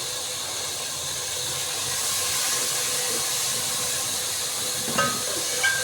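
Tomatoes go into a hot pan for a home-cooked dawat meal, giving a steady, even hiss of sizzling that carries throughout, with a couple of small clinks near the end.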